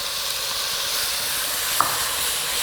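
Kimchi frying in a pan, a steady, close, broadband sizzle that holds evenly throughout, with one tiny clink partway through.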